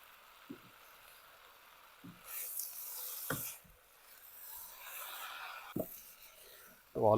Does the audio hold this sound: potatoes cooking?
yes